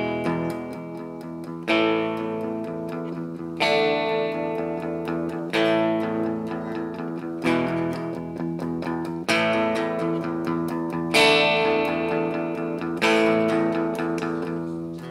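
Distorted electric guitar riff repeating over a sustained low E pedal tone, chords struck roughly every two seconds and ringing out between hits.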